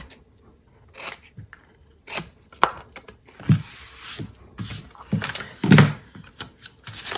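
Scissors cutting paper cardstock along a score line for a Christmas stamping craft make a series of crisp, close snips and slicing crunches in uneven bursts, with quiet gaps between cuts.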